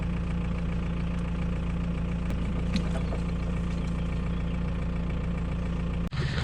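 A Ford Transit Mk2 camper van engine runs steadily on a fuel cell, holding a constant low rumbling idle with a brief knock near the end.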